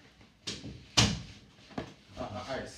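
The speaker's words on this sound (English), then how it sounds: "Alright, close the door." A house door is pushed shut with a couple of sharp thuds and a firm knock, close by, with voices talking around it.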